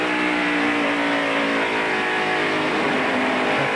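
NASCAR stock cars racing on the track at the 1993 Bud 500, a dense, steady, loud roar of engines at high revs with no talking.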